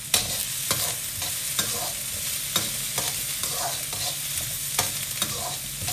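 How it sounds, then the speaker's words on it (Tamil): Onion sizzles in hot oil in a pan for a vegetable noodle dish while a spatula stirs it, producing a steady close frying hiss broken by regular scraping strokes. "கொஞ்சமாக ஒரு அரை வெங்காயம் போட்டுக்கலாம்."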